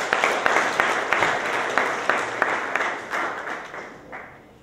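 Audience at a talk on Syros applauding two men, a dense sustained wash of many hands clapping, steady then gradually tapering off, heard from within the hall.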